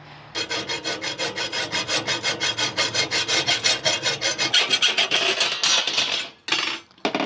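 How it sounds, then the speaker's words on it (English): A hand saw cuts metal tile trim set in a miter box, giving a fast, even run of rasping back-and-forth strokes that builds in loudness, then stops with a few final strokes. "now I'm going to set it in the miter box"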